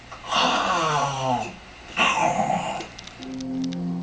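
A voice imitates the wheezy, snoring-like rasp of a large snake in a few drawn-out breaths, rough and throaty, close and moderately loud.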